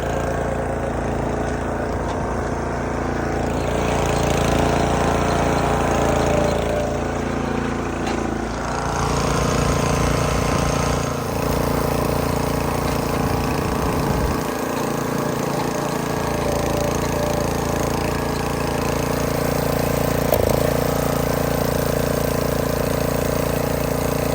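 Snapper riding mower driving in top gear after being repaired, a steady loud engine drone with a constant low hum and mechanical rattle running throughout, close by and alone.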